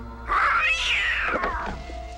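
A cat stuck up in a high spot lets out a single long, drawn-out meow that rises and then falls, loud and close, with no talk over it.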